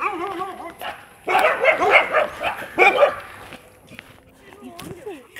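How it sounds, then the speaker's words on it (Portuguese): Several dogs bark and yip as they approach, close and loud in a short burst, with a person talking around them. "os cachorros vêm vindo aí."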